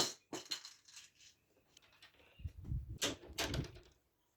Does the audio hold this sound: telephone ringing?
no